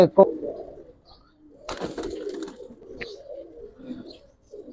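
Giribaz pigeons cooing in a loft give low, murmuring coos close by, with a brief burst of wing flapping and someone talking over the birds.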